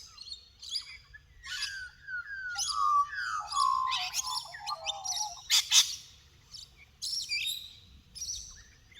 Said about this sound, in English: listen to the beautiful bird sounds that are coming through from my end